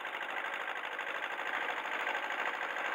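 A Kubota 1550 tractor driving in rain, its gearbox giving off a steady, even mechanical whine with a fast buzzing engine note underneath, close and unbroken, with no talk.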